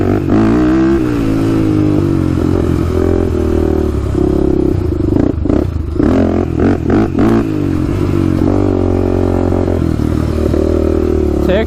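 A Honda 400ex quad revs hard in first gear during a wheelie, its loud close engine droning steadily with surging pitch, brief dips and some clattering.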